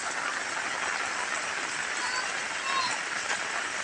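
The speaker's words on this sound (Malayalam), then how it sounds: "നല്ല മഴയാണ്, നല്ല കോരിച്ചൊരിയുന്ന മഴയാണ്" Steady, dense hiss of heavy pouring rain during a red-alert downpour in Palakkad, Kerala, constant and even throughout with no pauses.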